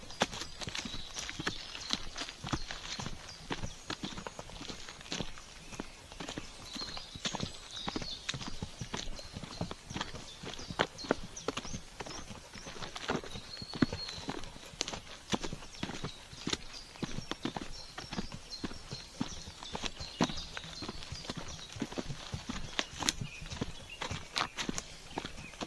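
Horse hooves clip-clopping at a walk during a ride, a steady rhythmic patter of close, moderately loud hoofbeats running throughout with faint rustling in the background.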